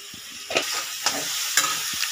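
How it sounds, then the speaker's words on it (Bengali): A spiced mixture being stirred and lightly fried in a pan with garam masala, a steady sizzle broken by a few short scraping strokes of a spoon, close and clear with no talk. "এবার এটা ভালোভাবে একটু নাড়িয়ে নিচ্ছে দিদি, একটু হালকা ফ্রাই হবে।"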